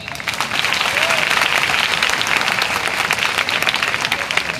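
A school audience at a Dr. Kalam Jayanti event claps loudly and continuously, dense overlapping applause filling the hall from start to finish.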